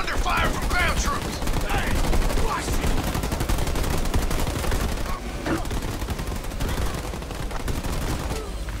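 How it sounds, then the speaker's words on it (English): Ground troops trading gunfire in the real-time strategy game Halo Wars 2, a continuous crackle of rapid automatic shots at mid distance, with a few spoken voice lines over the battle. "Under fire from ground troops."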